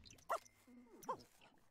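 Game dog in The Sims 4 gives two short yelps or barks, separated by a pause, quiet and close over soft game background sounds.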